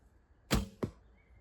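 An arrow released from a bow thumps into a target: a sharp strike followed about a third of a second later by a second, softer impact, heard alone in a quiet outdoor setting.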